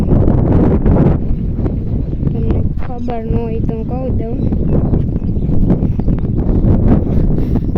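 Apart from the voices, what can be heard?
strong wind blowing into microphone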